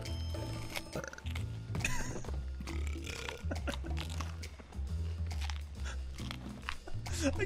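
A pirate character in Sea of Thieves belches loudly and repeatedly while eating, wet chewing and gulping sounds mixed in over a dense, busy game soundscape.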